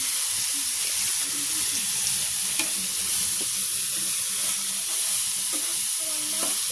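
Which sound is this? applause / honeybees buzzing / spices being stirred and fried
spices being stirred and fried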